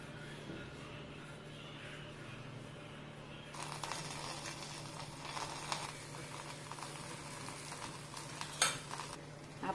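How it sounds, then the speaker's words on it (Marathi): A thick potato-stuffed paratha roasting on a griddle, with a soft, steady sizzle that rises partway through and continues as a faint crackle, with the odd clink of utensils. "पराठा हा अगदी खमंग आणि खुसखुशीत भाजून घ्यायचा आहे"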